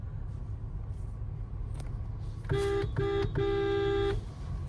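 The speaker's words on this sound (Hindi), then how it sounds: "हाँ हॉर्न बजाइए" A car horn honks in three short bursts, the last held longer, over a steady low engine rumble, during a driving lesson.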